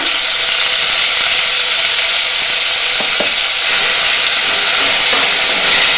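Two spoonfuls of onion paste hitting hot oil after the tempering spices, a loud, steady, close sizzling hiss that holds throughout, with a few faint knocks of a spoon against the pan.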